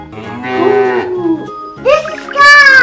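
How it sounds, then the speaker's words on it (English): A cow moos twice, loud and close, each call a long drawn-out bellow with a short pause between. "This is cow."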